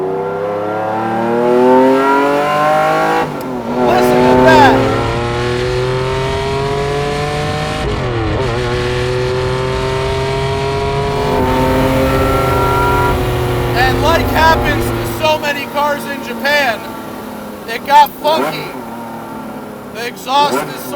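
A Lamborghini Diablo SVR, the factory race car, revs hard while driving, its engine rising and falling through several loud, sustained pulls close by, ending with a few sharp blips.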